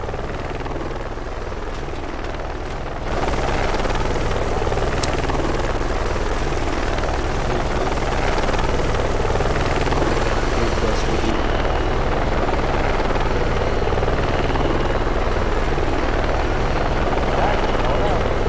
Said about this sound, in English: let's take the chopper. The boat takes too long.